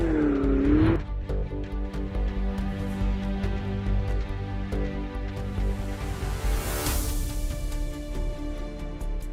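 Ferrari Stradale driving on an icy road, a steady engine drone with tire noise running throughout, a brief rising whine at the very start and a brighter hiss swelling midway.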